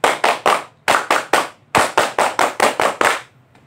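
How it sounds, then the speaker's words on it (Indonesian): A group of Indonesian elementary school scouts performs the rhythmic scout clap, sharp unison hand claps in patterned bursts of three and longer runs separated by short pauses, loud and close, then silence. "Tepuk pramuka."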